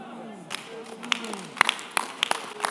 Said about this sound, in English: if you are clapping for Jesus, you will get something here today